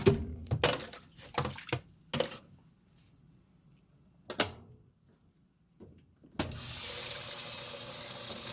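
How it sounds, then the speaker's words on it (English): A kitchen tap opens and water runs steadily into a sink, a close hissing stream that starts after a few knocks and clatters and continues to the end. "I'm going to put just a tad more water in here."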